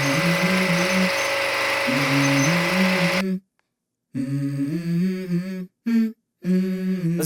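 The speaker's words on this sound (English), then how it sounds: "We just got the splitter started" A wood splitter engine runs outdoors in steady harmonic drone that shifts pitch as the load changes, cutting out to silence twice before restarting with a loud, close hum.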